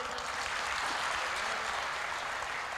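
A live audience claps in sustained, dense applause at a Hindi comedy or poetry stage show, loud and even throughout with no voices over it.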